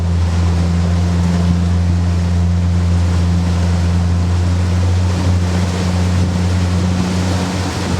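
The steady, low drone of a motorboat engine over rushing river water in Zambia, continuous and close, with no one speaking.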